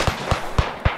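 Chauchat machine gun fires in the World War I shooter game Beyond The Wire, four evenly spaced booming shots in quick succession, moderately loud with no talking.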